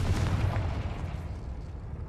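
The Incendio fire spell in Hogwarts Legacy gives a dense, roaring burst of flame that stays loud and steady, then slowly thins out over two seconds.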